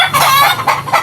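Several backyard chickens cluck and squawk loudly and close by, overlapping calls in bursts with no pauses, while roosters crow among them.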